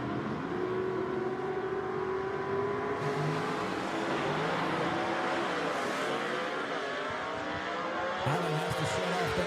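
Gasser drag racing cars roar down the strip at a Southeast Gassers Association event at Knoxville Dragway, a dense, continuous engine rumble with shifting pitch that stays loud and steady throughout.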